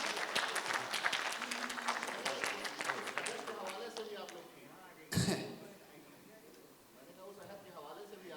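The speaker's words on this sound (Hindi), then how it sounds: "तो गालिब टीम के लिए एक बार ज़ोरदार ताली बजाएं" A crowd claps loudly in a dense burst at an Urdu poetry Baitbazi competition, then fades out, followed by a sharp thump and then quiet murmuring.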